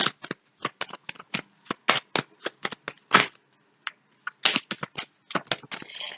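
Tarot cards are shuffled by hand before a reading, a rapid series of crisp, close riffling bursts in short irregular clusters with brief silent gaps between them and no talking.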